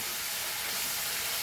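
Shark fish egg bhurji fries in a pan with coriander powder, giving a continuous, even sizzling hiss that stays close and steady throughout, with no voices.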